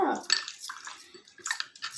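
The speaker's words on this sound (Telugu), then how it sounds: "కొంచెం వాటర్ పోస్తున్నాను" Water pours and splashes into a container in short bursts while making sambar, with some faint clinking, close by.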